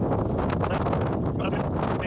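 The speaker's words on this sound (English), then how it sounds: "Sorry about the wind, it's going to get bad now." Strong wind buffets the microphone outdoors on a stormy Cornish day, a steady loud broadband roar with gusty surges filling the whole clip.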